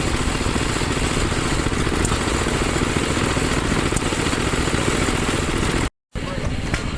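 Small antique kickstart engines, believed to come from old washing machines, run at an outdoor engine show, giving a steady close putter that continues evenly and cuts out briefly near the end.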